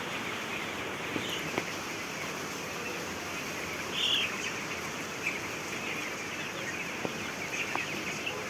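Seventeen-day-old broiler chicks on a farm let out a few sparse, faint peeps and clucks over a constant soft background hiss of light rain.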